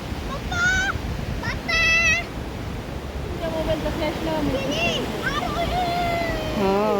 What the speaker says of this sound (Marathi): इकडे लाटा मस्त लाटा येतात